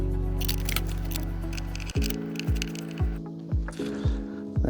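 Button head bolts being tightened with a ratchet while a tail rack is fitted to a KTM 390 Adventure, a steady run of close, repeated clicking strokes at an even pace, with no talk.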